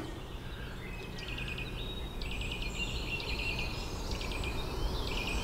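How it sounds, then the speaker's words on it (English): Birdsong in a misty woodland at morning: repeated high chirping phrases from several birds, moderately distant, over a steady low background rumble, with no voices. "listening to the birds."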